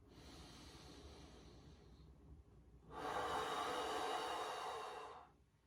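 Slow belly breathing during a long hip bridge exercise, a soft breathy inhale followed after a pause by a longer, louder hissing exhale close to the microphone.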